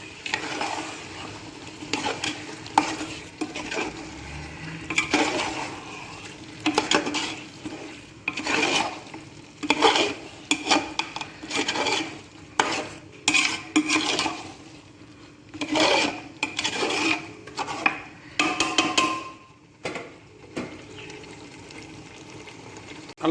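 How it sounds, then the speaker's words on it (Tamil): Chicken biryani ingredients are stirred into masala in a pot, giving irregular scraping and wet squelching bursts from a spoon working through the mixture, with a soft sizzle underneath and no talking. "ஆட் பண்ணி இந்த மசாலாவோட நல்லா சேருங்க"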